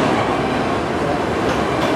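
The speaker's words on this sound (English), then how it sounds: "But wow, this train is long." A long Norfolk Southern autorack freight train rolls past close by in Spartanburg, South Carolina, a loud, steady broadband rumble with continuous wheel and car noise and no pauses.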